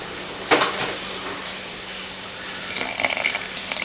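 Water is poured into a bowl of rye flour, starting with a short splash, then a quieter trickle, then a louder, gushing pour near the end, close and alone.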